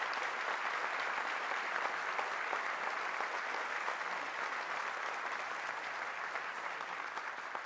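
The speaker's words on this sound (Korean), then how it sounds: "다시 한번 큰 박수를 부탁드립니다" A large audience applauds at a national Police Day ceremony, a dense, continuous wash of clapping holding steady throughout with no gaps.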